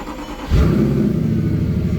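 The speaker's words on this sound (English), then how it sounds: "the R8 has like some battery things going on and it just takes a while to start" An Audi R8 with a weak battery cranks slowly, then the engine catches and settles into a loud, close, steady low rumble that holds to the end.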